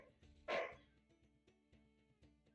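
A single loud, close dog bark bursts out, then fades into a quiet indoor room with low background murmur.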